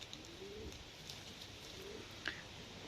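Pigeons cooing in a loft, a couple of soft low coos spaced apart over quiet background rustle, faint and near, with a brief sharper sound near the end.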